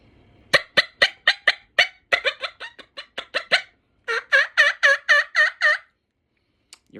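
A turkey call imitates a hen, loud and close, with a run of sharp rapid cutting clucks followed by a rhythmic series of raspy yelps, then a pause.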